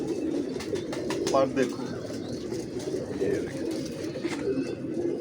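Muscular pigeons at a breeding setup coo in soft, repeated low calls with a few sharper chirps. Someone talks briefly over them, and the cooing continues underneath.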